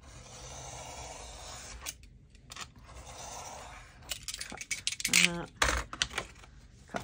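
A craft knife cuts through a Dollar Tree gift bag cover, with long soft scraping strokes and then a cluster of quick rasping, crackly cuts at close range, while a voice speaks intermittently.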